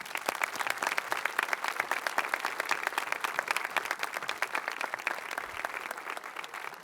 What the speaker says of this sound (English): I would like you to give a round of applause for our Superintendent of Schools